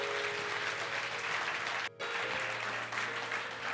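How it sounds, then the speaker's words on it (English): Church congregation applauding God in a sustained hand clap of praise during a Mother's Day service, a dense steady wash of many hands with a brief dropout midway and a low hum beneath. "Let's give God a hand clap of praise."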